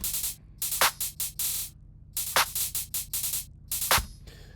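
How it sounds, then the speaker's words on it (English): Crisp electronic claps and bright hissy hi-hats play in a sparse, syncopated pattern, sharp and close, with gaps of silence between hits. "when I have claps and hi-hats, they'll sound something like this."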